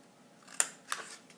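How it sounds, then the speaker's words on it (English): Scissors trimming the edges of tarot cards, two quiet close snips about a third of a second apart, alone in a calm room. "you can trim it with your scissors"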